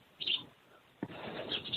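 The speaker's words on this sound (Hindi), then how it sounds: "मुझे ऐसा लग रहा है शायद तुम चिड़ियों के साथ खेल रही हो" Small birds chirp faintly through a phone line, with two brief bursts of high tweets separated by a low background murmur.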